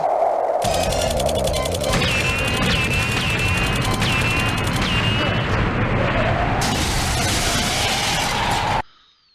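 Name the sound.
gunfire while shooting enemies in a video game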